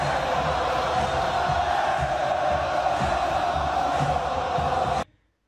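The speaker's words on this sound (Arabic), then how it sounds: "الجمهور المغربي فاش كيحب فرقته ها كيفاش كيعبر عليها" Football supporters at the Casablanca derby between Wydad and Raja chant in a loud, massed roar that fills the stadium steadily, then cuts off abruptly.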